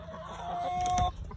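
A chicken on a farm gives a short burst of clucks, fairly close and alone, ending with a louder squawk.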